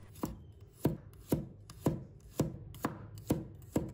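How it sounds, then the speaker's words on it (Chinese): A knife slices garlic into pieces on a cutting board with about eight steady, evenly spaced chops, crisp and close, with no voices. "再准备1把大蒜，把它切成片"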